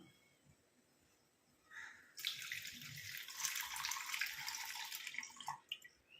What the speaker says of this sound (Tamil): இப்போ இதை வந்து இந்த கொதிக்கிற தண்ணியில் நம்ம இதை வந்து ஆட் பண்ணிக்கலாம்